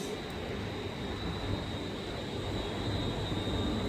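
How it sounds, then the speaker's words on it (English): Class 321 electric multiple units pull out of Colchester station on an empty stock move toward Ipswich, producing a steady broadband rumble and whine that holds evenly throughout. "the 321s are now departing"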